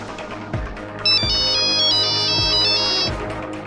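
An incoming-call ringtone plays from a phone in a courtroom drama, a steady repeating electronic melody at close range over low background music with faint thumps.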